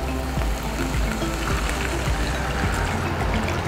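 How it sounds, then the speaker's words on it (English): Water poured into a pot of beef and carrots for a Vietnamese beef stew, a steady close trickle and splash running without a break under faint background hum. "And then some water."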